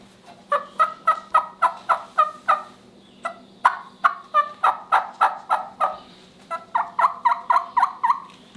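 Rapid, rhythmic gobbling of an eastern wild turkey in bursts of sharp repeated notes, loud and close, with brief pauses between series.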